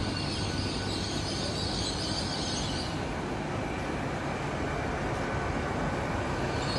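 A train rolls into Exeter St David's station, a loud continuous rumble and rush of the arriving locomotive, close by and steady with no talk.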